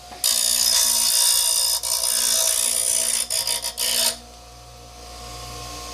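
A Skil 2.1-amp 6-inch bench grinder with light sharpens a tool edge, giving a loud, steady rasping grind that runs for about four seconds, dips briefly in places, then drops to a lower motor hum.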